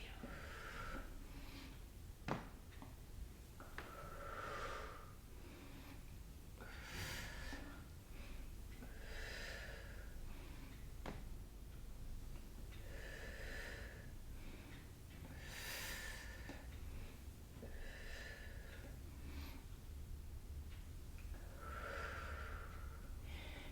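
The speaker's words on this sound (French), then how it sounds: "On inspire et on expire." Slow, deliberate conscious breathing, close and quiet, with several airy inhale and exhale cycles every few seconds in an even, calm rhythm over faint background.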